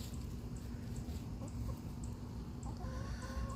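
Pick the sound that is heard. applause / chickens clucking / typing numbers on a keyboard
chickens clucking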